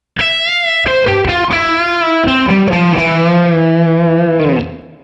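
A distorted electric guitar plays a short melodic lick, a few quick notes then a long sustained bend that fades out, loud and close.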